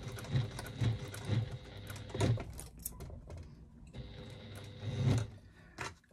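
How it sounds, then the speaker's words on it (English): A sewing machine stitches bias or traditional binding onto a quilt, about an eighth of an inch from the edge, in short runs of close, muffled mechanical thumping with brief pauses between bursts. "Let's just do a few bits of stitching"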